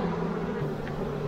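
Honeybees buzzing steadily at an open beehive with newly drawn wax comb, a close, continuous droning hum without talk.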